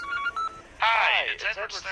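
A video-game telephone in Baby in Yellow rings in short electronic tones, then a voice cuts in loudly over the tail end.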